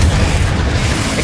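Confringo fire-blast spell in Hogwarts Legacy, a short, loud, booming burst with a dense rumbling low end and no voices.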